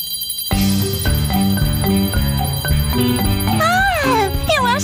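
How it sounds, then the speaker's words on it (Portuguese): Jingling bells on gloves in a Dora the Explorer cartoon, played to cheer up a dragon, bright melodic chiming notes in a rhythmic tune with cartoon sound effects sweeping near the end. "acho que o dragão está gostando do som dos sinos das luvas."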